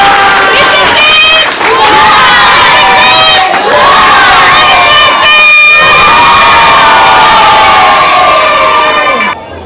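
A large crowd at a Le Bercail ASBL children's event in Cameroon cheers, whistles and shouts loudly, with children's high voices ringing out in sustained bursts that dip briefly before surging again.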